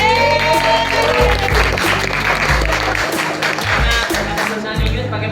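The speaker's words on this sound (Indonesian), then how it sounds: "Tepuk tangan juga." Classroom applause bursts out loud and continuous for several seconds, with voices and some tonal sound mixed in.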